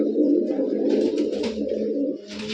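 Kaldam pigeons coo in a loft in low, throaty rolling calls, close and repeated, with a soft rustle of wings and movement between phrases and no talking.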